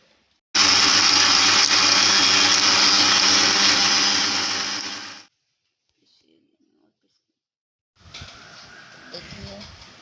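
An electric mixer grinding spices for urad dal adauri, a loud, steady high whirring motor run of about five seconds that cuts off abruptly, then silence before quieter rattling and handling noises.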